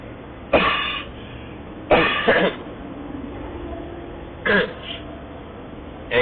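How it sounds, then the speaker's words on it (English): Three separate coughs, close and harsh, spaced a couple of seconds apart, with a quiet room in between. "I got a cough, guys, sorry."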